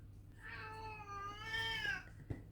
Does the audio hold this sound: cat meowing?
yes